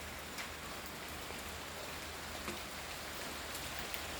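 Steady rain falls through the night, a dense unbroken hiss with scattered drops striking surfaces close by, nearly even in level throughout and free of voices.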